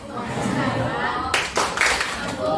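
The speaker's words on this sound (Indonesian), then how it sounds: "Tepuk santiang." A group plays the rhythmic hand-clapping game tepuk santiang. Sharp bursts of claps come in uneven clusters over a murmur of voices in the room.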